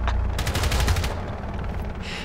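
Rapid automatic gunfire in the tactical shooter Rainbow Six Siege, a dense close burst of shots for about a second, then scattered quieter rounds and ambient game noise.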